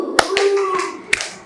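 Three sharp hand claps in a classroom clapping game, two close together and a third after a pause, with children's voices calling out between them.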